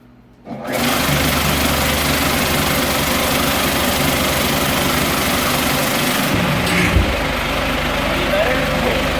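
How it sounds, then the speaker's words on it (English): A loud vibratory finishing tumbler starts up after a brief quiet moment at a manufacturing tool show and keeps up a steady, dense droning rattle with a faint voice underneath. "run this tumbler and compare the loudnesses of it"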